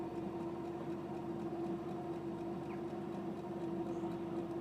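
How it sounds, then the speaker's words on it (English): A Honda S600 coupe engine idles smoothly and evenly at a steady, moderate level with a constant hum, and no voices are heard over it. "And then just settles down to a really polite idle."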